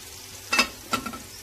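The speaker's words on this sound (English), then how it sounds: "While frying my onion" Onion frying in a pan, two short bursts of sizzling as it is stirred, fairly quiet and close, with faint background crackle between them.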